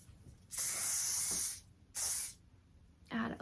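Hairspray hisses from a can in two bursts, a long one then a short one, close and loud, while styling soft voluminous curls, followed by a brief softer hiss.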